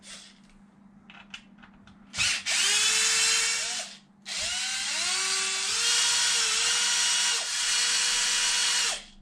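A power drill spins out bolts on an Arrma Typhon RC car, with short whirring bursts followed by long, loud sustained runs that rise and fall in pitch, close up with no talk.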